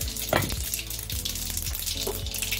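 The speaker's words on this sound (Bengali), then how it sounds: "এই তেলের মধ্যে দেবো এই যে সেই ছোট সর্ষে, সেই দেখিয়েছিলাম সেই সর্ষেটা, একটু জিরে" Small mustard seeds and cumin crackle and sizzle in hot oil. The frying is moderate and continuous, with a few soft knocks from a utensil.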